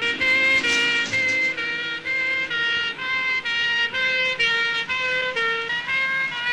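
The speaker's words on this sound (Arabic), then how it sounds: "ودلوقتي جت عربية إسعاف دخلت" An ambulance siren wails in a loud, steady two-tone cycle that repeats evenly, sounding close and dominating the scene with no voices over it.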